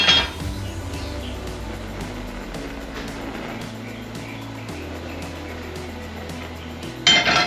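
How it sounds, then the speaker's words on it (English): A cast iron griddle and its lid are set down on stove burners, with metallic clinks and clanks at the start and end over a low steady hum. "Throw the griddle on these two right here. The lid on this guy."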